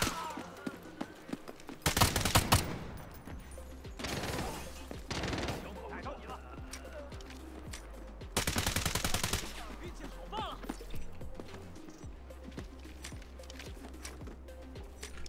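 Rapid gunfire from a Golem weapon in a shooter video game rings out in two loud, sustained bursts, with scattered shots and impacts in between, all layered over a steady background music track.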